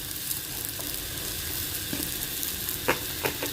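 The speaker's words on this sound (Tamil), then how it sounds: "இந்த ஸ்டேஜில் பார்த்தீங்கன்னா இப்போ எடுத்து வச்சிருக்கிற ரைஸை வந்து இப்போ ஆட் பண்ணிக்கிறேன்" Egg fried rice with carrots sizzling in a pan as cooked rice is stirred in, a soft continuous frying hiss broken by a few scraping stirs near the end.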